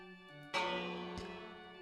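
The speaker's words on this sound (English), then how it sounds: "And if we ring this bell" A village bell in a video game tower rings once with a loud bright metallic strike that decays slowly, followed by a second softer strike, after a quiet tonal game music bed.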